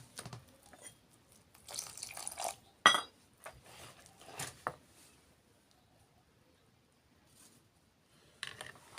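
About a cup of water splashes and trickles into a bowl of gram flour batter in short bursts, with a few clinks of utensils, then quiet.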